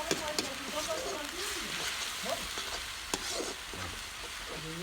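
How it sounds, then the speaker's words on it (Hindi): Goat curry with chili frying and being stirred in a pan in a Chhattisgarhi home kitchen, a continuous sizzle with scraping stirs, under a person talking. "अब बढ़िया से भूनबो ताकि वो बढ़िया भुजा जाए"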